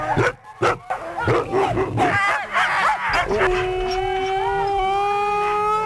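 Siberian Husky sled dogs bark, yip and whimper in excited bursts at close range before a winter sled run, with a voice speaking briefly and a steady tonal hum entering toward the end.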